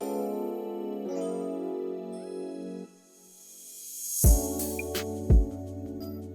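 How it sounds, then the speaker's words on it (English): In a melodic FL Studio beat, sustained tones play, drop out briefly, then a reverse crash swells upward into the chorus, which returns with two hard, booming drum hits. "this little half a bar gap that I filled with this reverse crash just to transition back into the chorus"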